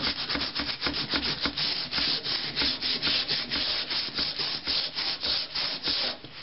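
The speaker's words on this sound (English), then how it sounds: "You just use your sandpaper," Sandpaper scrubs steadily back and forth along a rusted sword blade. The close, rhythmic rasping strokes come quickly and evenly, with no other sounds.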